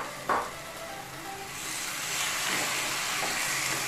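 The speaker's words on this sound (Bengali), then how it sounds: "পেঁয়াজটা সামান্য ফ্রাই করে নিয়ে এবারে এর মধ্যে যে ম্যারিনেট করে রাখা চিকেনগুলো সেটা দিয়ে দিচ্ছি।" Marinated chicken lands with a soft thump among frying onions in a restaurant-style garlic chicken dish. A steady sizzle follows and swells to a loud, hissing roar that carries on alone.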